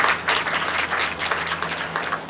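An audience applauds at a book launch ceremony for an Ayurveda parenting book, dense continuous clapping close up for a couple of seconds.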